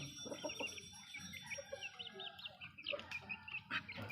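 Hens on a farm clucking continuously in a close, busy chorus, with several overlapping calls and occasional sharper squawks, no talking.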